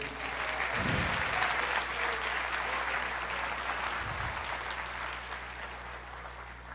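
Steady applause from a church congregation fills the whole stretch, a dense wash of many hands clapping continuously with a low rumble underneath.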